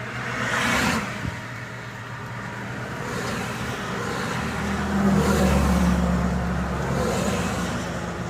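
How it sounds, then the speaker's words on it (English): A single car passes on a local road, its broad engine and tyre noise swelling from the start, holding steady and fading slowly near the end, heard alone without voices. "One more car."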